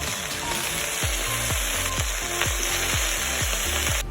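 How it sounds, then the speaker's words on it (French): Chicken drumsticks frying in olive oil in a cooking pot, a continuous loud sizzle and crackle with a regular series of low thumps, close to the microphone and with no talking. "dans une autre casserole, je vais ajouter un peu d'huile d'olive pour faire dorer les pilons de poulet"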